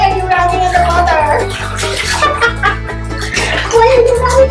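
A Chihuahua splashes about in bath water during bath time, with the splashing partly buried under loud, steady background music.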